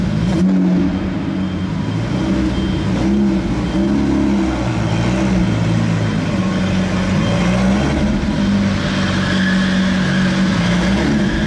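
A Lamborghini Aventador SVJ V12 revving, a loud close engine roar that rises and falls in pitch through several sustained pulls, with no talk over it.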